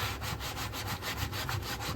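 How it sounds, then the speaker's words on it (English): Gentle scrubbing and rubbing strokes on the inside of a dishwasher, a steady back-and-forth scraping texture with rhythmic pulses, close and fairly quiet with no talking. "I don't want to scrub too much because I don't want to"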